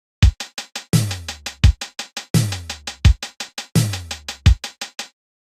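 A synthwave drum pattern of crisp hi-hats with the low end cut by EQ, tapping in a tight, even rhythm and punctuated by heavier, longer-ringing hits, loud and dry with no voices.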